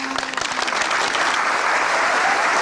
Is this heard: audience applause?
yes